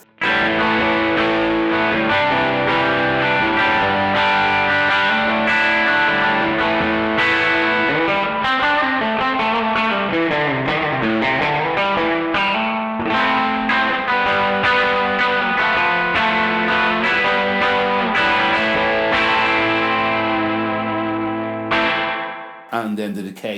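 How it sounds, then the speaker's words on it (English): Electric guitar played through a TC Electronic Arena Reverb pedal set to spring reverb, sustained chords and melodic lines ringing with a wet, splashy tail, loud and steady throughout before a brief cutoff near the end. "It's a great spring reverb."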